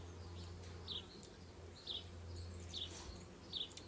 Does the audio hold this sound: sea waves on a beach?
no